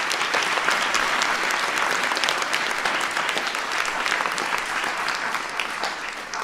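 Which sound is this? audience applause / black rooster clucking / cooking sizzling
audience applause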